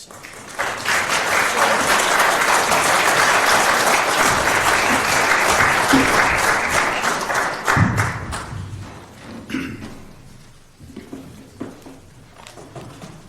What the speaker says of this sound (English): And you got a round of applause and your dad didn't?